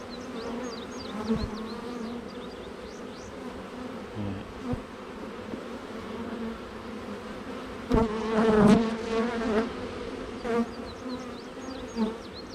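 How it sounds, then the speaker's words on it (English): Honeybees buzz around a beehive in a dense, steady drone, with individual bees swelling louder as they pass close by. "This hive might be queenless."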